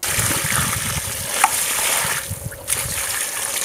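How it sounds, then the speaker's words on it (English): Water poured from above onto loose soil around a freshly transplanted tree, a steady close splashing trickle that soaks straight into the ground, continuous throughout. "You can see that I pour water in there and they just completely disappeared."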